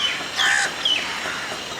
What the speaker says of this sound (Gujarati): કોયલના અને પંખીઓનો અવાજ.